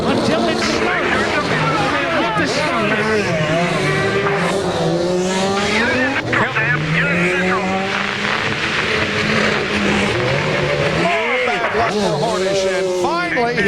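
An IRL open-wheel race car at the 2001 Grand Prix of Miami restarts and pulls out of the pit lane. Its engine revs rise and fall loudly over crowd and track noise, with other cars roaring past and a commentator talking over it.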